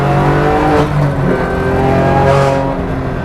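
A 510 bhp BMW M2 Competition on Dunlop Direzza DZ03G tyres, heard from inside the car on track: a loud, close engine roar rising and falling through revs and gear changes, with no speech.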